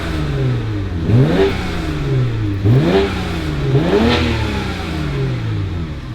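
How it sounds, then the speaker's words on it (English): From inside the cabin, a BMW 335i with the N54 engine and an M-Sport exhaust revs three times in a regular rhythm, each pull rising sharply and falling back to a rumbling idle, loud and close. "Let me rev it from inside real quick."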